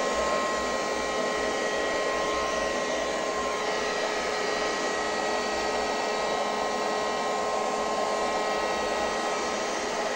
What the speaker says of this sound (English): It is vacuum cleaning,